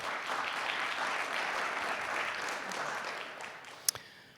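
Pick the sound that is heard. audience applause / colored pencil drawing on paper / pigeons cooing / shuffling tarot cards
audience applause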